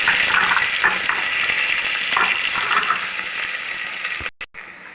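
Onions and curry leaves fry in a pan with a loud, continuous close crackling sizzle and occasional soft stirring scrapes, ending abruptly; no talking.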